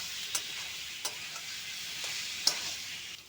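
Fried potatoes sautéed with spices in a pan make a soft, steady sizzle, broken by about four evenly spaced spatula taps and scrapes.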